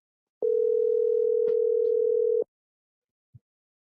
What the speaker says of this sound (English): let's see if he'll pick up the phone